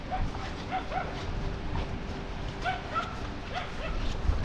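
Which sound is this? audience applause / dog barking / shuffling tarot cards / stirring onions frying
dog barking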